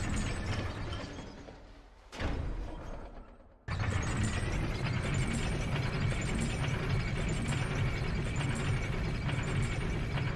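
A moving elevator platform in the video game Dark Souls 2 gives off a steady mechanical grinding and clanking of gears and ratchets. The sound is continuous and fairly loud, with a short dip and a sharp restart about a third of the way through.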